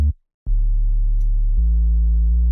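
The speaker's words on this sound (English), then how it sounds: "Just a sub with some portamento and a little bit of noise and some distortion" A synth sub bass with portamento, layered with a little noise and distortion for a glaive-style hyperpop beat, starts after a short silence and holds low sustained notes that glide down in pitch, steady and loud on its own.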